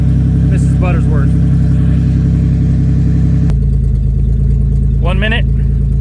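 Car engine running on maple syrup in place of engine oil, revving with a steady mid-pitched drone and a sudden drop in pitch partway through, while a person talks over it.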